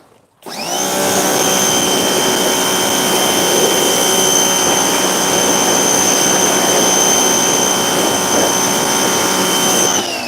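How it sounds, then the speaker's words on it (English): A pressure washer jets water onto the wheels of a Smart ForTwo, a steady, loud, continuous hiss and motor whine that starts abruptly and runs unbroken for ten seconds, close by, with no talking. "I'm just gently jet washing my wheels."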